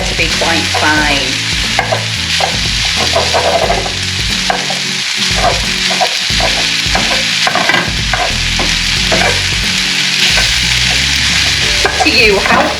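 Sausage meat sizzles steadily in a pan, a loud close frying hiss with intermittent scraping and stirring clatter throughout, no voices.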